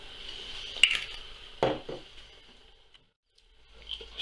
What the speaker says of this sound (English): give that a stir up